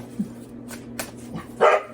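A few scattered dog barks and yips, fairly faint and irregular, over a low steady hum, with one louder sharp bark near the end.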